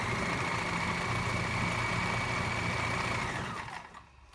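A Kenmore zig-zag free arm sewing machine runs fast at a very short stitch length, giving a steady, close whirring hum that holds level for about three and a half seconds and then winds down to quiet.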